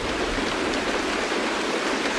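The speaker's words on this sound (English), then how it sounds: "It's raining." Steady, dense rain falls in Honkai Star Rail, a continuous broadband hiss of drops on surfaces with no pauses or talk.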